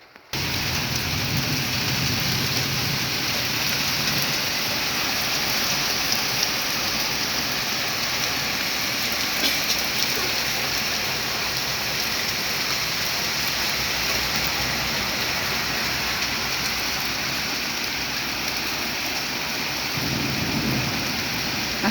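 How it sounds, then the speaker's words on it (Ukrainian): Heavy rain pours steadily while thunder rumbles low in the background, a continuous dense downpour without voices. "гримить і отака в нас злива."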